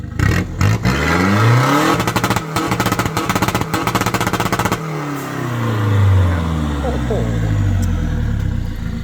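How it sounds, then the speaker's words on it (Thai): A turbocharged Toyota BluePower pickup engine revs hard and bounces off the rev limiter, with rapid stuttering cuts and sharp pops, then drops back to a rough idle and revs again. "ฟังเสียงเบิ้ลตัดครับ"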